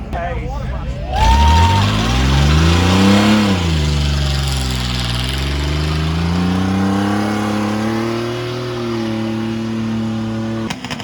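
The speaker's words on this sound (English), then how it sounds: "Let's see this thing smoke some tires." The engine of a Chevy G20 van with a swapped 700R4 transmission revs hard and holds high to smoke the tires, a loud, close, rising roar that wavers and stays sustained, and a voice is heard over it.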